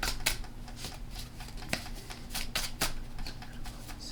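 Tarot cards shuffled by hand: a series of crisp, close slaps and riffling snaps at an uneven pace over a quiet room background, with no talking.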